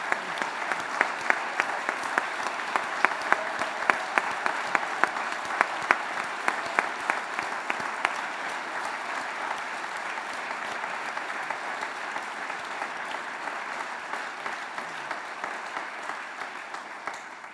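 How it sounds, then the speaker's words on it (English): A ceremony audience gives a long round of applause for diploma recipients, a dense, steady clapping that stays loud throughout, with a few sharper claps standing out early on. "So a further round of applause for all our diplomas today."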